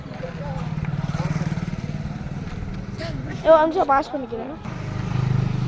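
A small motorbike engine runs at a low, even idle and sputters on under a brief stretch of nearby talk, then keeps running steadily.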